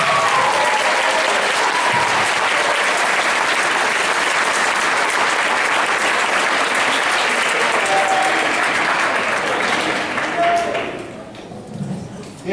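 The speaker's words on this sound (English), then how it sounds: "Please give a round of applause for this senior" Sustained applause from an audience at a school jazz café concert, honouring a senior jazz band member, dense and steady for about ten seconds before thinning out and fading near the end.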